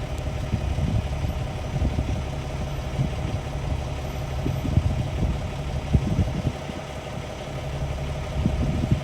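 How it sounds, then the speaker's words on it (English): A steady low mechanical hum of an Amazon Cargojet aircraft's auxiliary power unit running continuously on the runway at YVR after an emergency landing, with a constant drone and slight fluctuations, fairly close. "they've got the APU running"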